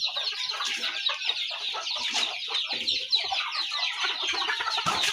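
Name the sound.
chickens clucking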